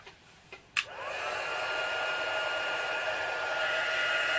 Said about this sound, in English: I'm about to switch my heat tool on.